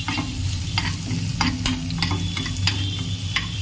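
Onions and tomatoes frying in a pan while being stirred, a steady close sizzle with repeated scraping and knocking strokes of the spoon against the pan, no voices.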